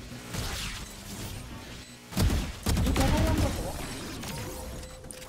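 Gunshots in a Valorant match: a few loud, sharp cracks in quick succession near the middle, then lingering impact and combat noise, with game voices and a commentator talking around them.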